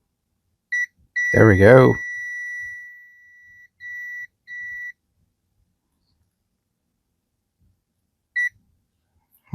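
A multimeter in continuity mode gives repeated short, high electronic beeps as its probes touch pins on an N64 game cartridge board. The beeps come in brief bursts, with one longer tone and scattered chirps, and a voice speaks briefly between them.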